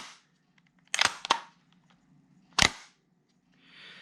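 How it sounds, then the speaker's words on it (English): A GHK G5 airsoft gas blowback rifle fires three sharp, close cracks, two in quick succession and then one more after a pause, with quiet gaps between. "This is honestly one of the smoothest gas blowbacks I've used."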